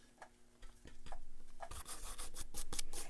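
A brush rubs and scrapes across a surface in short strokes, growing denser and louder toward the end, close up with no talking.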